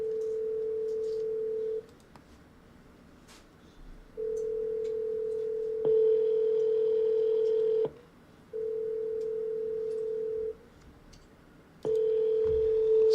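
An outbound phone call to property sellers rings through a handset, a steady electronic ringback tone pulsing on for about two seconds and then pausing, repeated four times at a regular rhythm, clear and alone with no talking.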